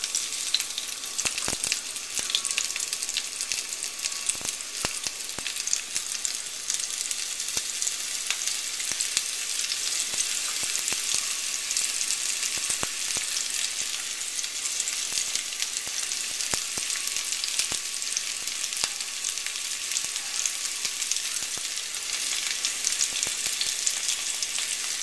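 Peppers sizzle steadily in a hot pan, a bright, even hiss that holds at constant loudness throughout, with faint clicks and no talking.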